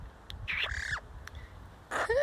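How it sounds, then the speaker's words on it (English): A pet bird named Burb gives several short, loud squawks up close, with pauses between bursts and no talking. "Bird, what are you doing?"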